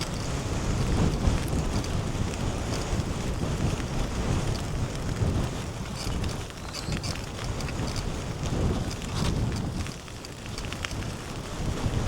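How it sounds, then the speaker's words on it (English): Strong coastal wind buffets the microphone during a bike ride at Brean in North Somerset, a steady rushing roar with gusty swells that stays loud throughout and has no voices over it. "but it is windy."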